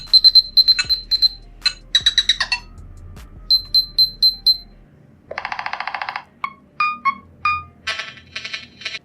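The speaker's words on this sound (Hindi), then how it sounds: "अलग अलग रिंगटोन आपको कुछ इस तरीके का देखने मिल जाएगा" Several short electronic ringtone melodies play one after another on a Nothing Phone (1), bright chiming beeps in quick repeating patterns, each sample switching to a new tune.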